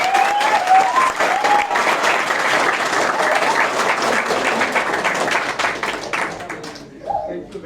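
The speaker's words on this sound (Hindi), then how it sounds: "कितना पसंद आया वो अपनी ताली बजाएंगे" Sustained audience applause fills a theatre after a Hindi stage play, Zarurat Hai Shreemati Ki, at the Natsamrat Natya Utsav festival. It is dense and steady, with scattered voices mixed in, and thins out near the end.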